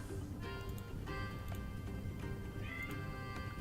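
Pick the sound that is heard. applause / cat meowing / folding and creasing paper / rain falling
cat meowing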